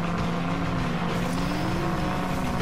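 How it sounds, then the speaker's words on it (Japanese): Vehicle engine in the video game Rage 2, a loud steady droning motor hum with a faint rising and falling pitch, running continuously and alone. "なんかエンジン音が聞こえる。"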